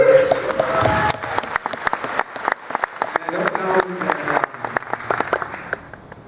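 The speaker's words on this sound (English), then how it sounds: "Big round of applause, Scott" Scattered applause from a smaller audience honoring Scott, individual sharp claps overlapping unevenly, with people talking and cheering at moments throughout.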